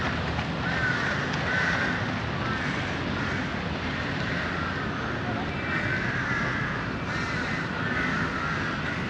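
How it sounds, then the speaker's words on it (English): Crows cawing repeatedly in a Bangkok park, mid-distance calls over a steady bed of wind and distant aircraft hum. "particularly homesick for crows"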